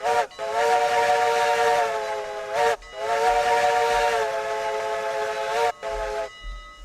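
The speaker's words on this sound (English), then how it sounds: "screaming whistle letting you know that we're coming down the track" A loud steam locomotive whistle in the video game RailRoads Online blares in two long, sustained blasts with a brief gap between, bright and piercing, followed by a short third toot.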